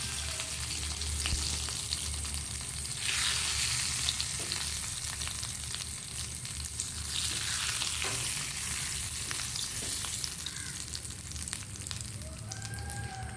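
Prawns sizzle and crackle in hot oil in a pan, a dense continuous frying hiss with occasional stirring scrapes, close and steady throughout.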